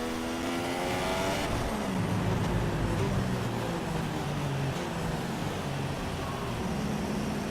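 Simulated Formula 1 cars from F1 2016 idle and rev on the formation lap at the Hungary circuit, a steady dense engine drone with rising and falling pitch sweeps, close and continuous, with no talk.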